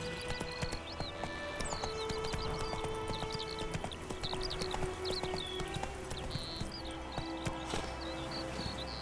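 In The Witcher 3: Wild Hunt, a horse trots at a steady rhythm of hoof clops over ambient wilderness, with birdsong chirps and a low background hum, no voices.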